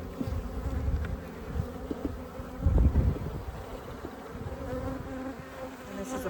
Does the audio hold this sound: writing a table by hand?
no